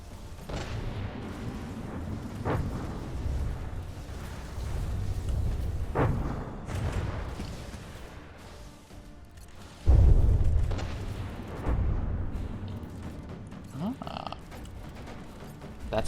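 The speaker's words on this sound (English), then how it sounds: "That's an ammo detonation for the Adventure Craft." In a video game, a vehicle's ammunition detonates with a deep boom near the ten-second mark, rising out of continuous rumbling battle noise with scattered impacts and faint mechanical clanks.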